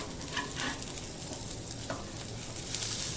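Fish shallow-frying in oil on a wide pan for a healthy fish fry, giving a steady close-up sizzle and crackle throughout with a few brief louder pops.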